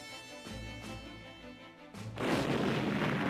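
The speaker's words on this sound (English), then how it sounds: "Heavy naval and air bombardment cleared the path ahead of them." Heavy artillery and naval bombardment during a Korean War beach landing, deep booming blasts that swell into a loud rumbling barrage, heard in old wartime footage with no talking.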